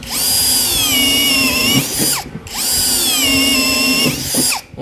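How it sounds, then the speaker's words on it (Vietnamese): A compact cordless screwdriver with a hex shank drills into dry wood, running at high speed. Its motor whines loudly through two sustained bursts, separated by a short pause, with no voices. "bây giờ sẽ đi test thêm cho anh em cái tính năng khoan của con này nhá"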